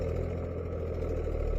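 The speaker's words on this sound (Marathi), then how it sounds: "तुम्ही ट्रॅक्टर पाहू शकता." A tractor engine on a sugarcane farm runs at a steady low idle, a continuous throbbing rumble heard nearby with no talk.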